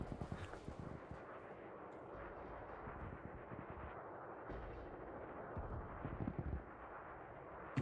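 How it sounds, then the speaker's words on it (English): Fireworks going off during a 40th-anniversary gathering of ships in the space game Elite: a continuous dense barrage of booming, crackling bursts, loud and steady throughout with sharper pops near the end, no talking. "And they're setting off fireworks."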